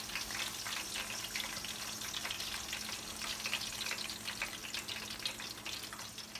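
Green chili pakoras fry in hot oil, giving a dense continuous sizzle and crackle that stays fairly quiet and even, with no voices over it.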